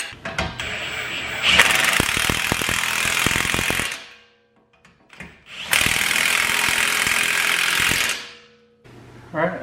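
An impact gun runs in the wheel bearing bolts on a Chevy Equinox front hub, two loud sustained bursts with rattling hammering, separated by a brief pause, close by in a garage.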